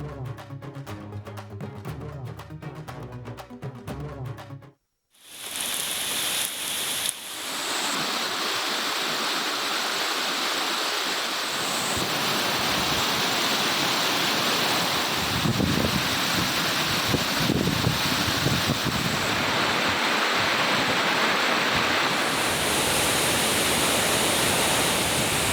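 A waterfall in the Meghamalai forest hills of Theni district in the Western Ghats, swollen by heavy rain, roars as a loud, steady, broad rush of water that fills the scene after a brief opening of other sound.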